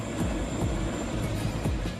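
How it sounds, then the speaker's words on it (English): Military rescue helicopters landing at Howard Air Force Base in Panama, a loud steady engine and rotor roar that fills the clip without pause. "3 of the 4 rescue helicopters are landing."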